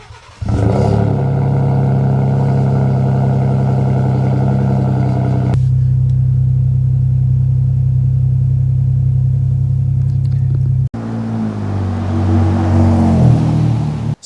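A modified Ford F150 XLT truck engine rumbles loud and close, holding a deep steady drone, shifting tone partway, then revving with a raspier, rougher note near the end.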